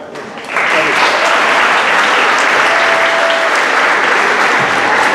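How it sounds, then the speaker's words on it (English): A large crowd claps for a boys' Stingrays team at an all-star basketball classic opening ceremony, loud sustained applause swelling in after a brief quieter moment and holding steady to the end. "Big round of applause for your Stingrays boys."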